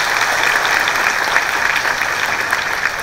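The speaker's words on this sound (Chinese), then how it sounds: "那我们再给公司一个热烈的掌声。" An audience gives warm applause for the company, a dense, steady clapping from many hands that is loud and sustained throughout.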